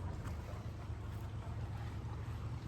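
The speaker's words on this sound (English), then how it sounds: "And a boat coming." Low rumbling engine drone of a narrowboat close by on a canal, steady and continuous, with wind and a faint watery hiss around it.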